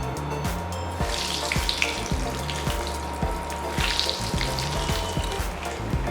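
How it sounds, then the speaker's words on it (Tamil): Paneer potato balls deep fry in hot oil, a steady close bubbling sizzle with a rapid, regular crackle running underneath, continuous throughout and free of speech. "இப்போ இந்த பால்ஸை வந்து நம்ம ஒன்றா போட்டு ஃப்ரை பண்ணி எடுக்கலாம்."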